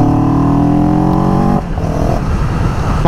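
A vehicle engine held at high revs with a strong, steady harmonic drone, then the revs drop off abruptly partway through and a rougher, lower rumble continues, loud and close.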